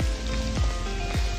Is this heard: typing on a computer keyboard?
no